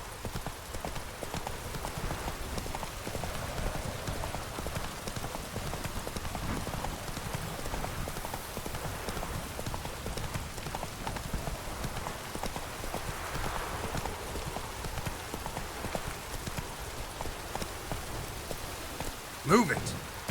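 Roach, the horse in The Witcher 3, trots steadily through rain, hooves clip-clopping at a regular pace over a constant hiss of rainfall, with a brief louder knock near the end.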